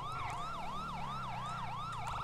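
A police-style emergency siren in a police roleplay video game wails loud and close, rising and falling in quick regular sweeps without a break.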